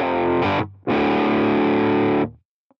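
Distorted electric guitar through a TONEX amp simulator with a Fender Super Reverb cab: a short chord cut off, then a longer sustained chord ringing out and fading, followed by a tiny click.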